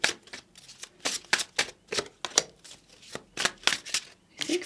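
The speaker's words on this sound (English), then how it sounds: "let's do a little bit of a shuffle" A deck of tarot cards is shuffled steadily by hand, with repeated crisp riffling bursts in an even rhythm, close and fairly quiet, with no voices.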